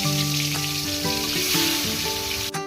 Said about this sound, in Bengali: এবার আমরা মাছগুলো ভেজে নিব।